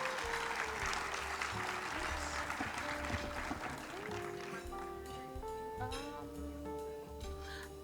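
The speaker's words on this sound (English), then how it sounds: "Round of applause for our City Manager and Deputy Mayor Pro Tem" Applause at a luncheon starts fairly strong, then thins and fades as the clapping dies down, quiet and somewhat distant, with faint background music tones.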